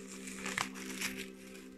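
Plastic wrapping being peeled off an oracle card deck, a soft, close crinkling with a couple of sharper crackles, faint over a steady low background hum.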